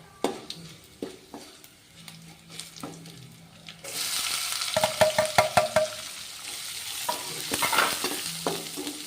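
Onions go into a hot pan for Karnataka-style tomato gojju: light stirring and scraping at first, then the sizzle jumps louder and stays steady, with the spoon clinking and scraping over it.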